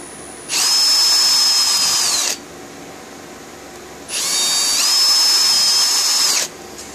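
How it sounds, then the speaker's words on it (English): A pilot drill bores straight through a notebook binder in two loud, sustained high-pitched whining bursts, each lasting about two seconds with a short pause between. "take your pilot drill, get it centered up, line it up, and just drill straight through"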